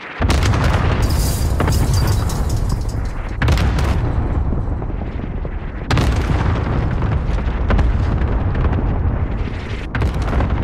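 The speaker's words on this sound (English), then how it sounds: "Cluster strike is active." Cluster airstrike explosions in the video game Call of Duty Warzone, loud, booming blasts in rapid succession with sharp onsets and long rumbling, crackling tails that fill the whole stretch.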